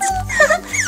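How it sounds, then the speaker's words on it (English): A puppy whimpers in a short, close burst of high, wavering whines and yips over a low background hum, with no voices. "I just can't believe that Puddles is your puppy dog, Rapunzel"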